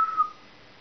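An electronic Digimon Xros Loader toy gives off a short, fairly quiet whistling tone that fades out after a fraction of a second.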